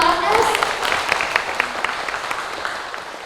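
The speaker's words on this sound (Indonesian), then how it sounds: "Baik, boleh tepuk tangannya untuk Bapak Anas." Audience applause at a village community program on stunting prevention in Banyuwangi, clapping rising right after a speaker's voice and then fading out over a few seconds.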